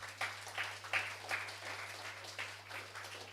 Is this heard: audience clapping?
yes